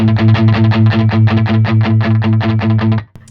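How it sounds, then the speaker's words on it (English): Electric guitar through a 1978 Marshall JMP amp turned up high into full tube saturation, a loud, thick, distorted chugging riff of fast repeated notes that cuts off abruptly near the end. "It's just getting thicker and more distorted."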